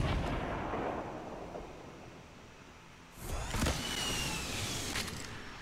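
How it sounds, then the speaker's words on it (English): Gunfire and explosive blasts come from a Fortnite firefight as a grenade comes in. The roar is rough and mid-distance, and it flares again with sharp cracks partway through. There is no speech. "Oh, grenade's coming in."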